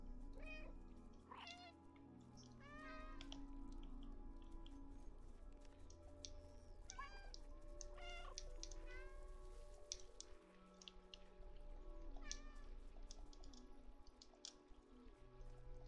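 A cat meows repeatedly in the video game Stray, with several short, fairly faint calls spread over a steady background of soft drips and ambient hum.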